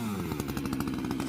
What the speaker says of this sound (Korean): 엔진톱으로 표시한 부분을 잘라내 주는데요